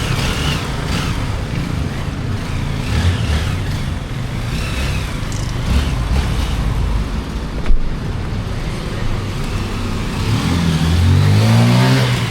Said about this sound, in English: Now the engine sounds like new.